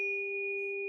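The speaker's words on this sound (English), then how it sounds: "So I'm going to strike a tuning fork" A struck tuning fork rings with one pure, steady tone and faint overtones, sustained evenly and quietly without fading, alone with no voices.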